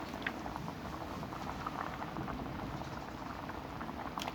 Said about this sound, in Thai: หัวกะทิกำลังเดือดเดือด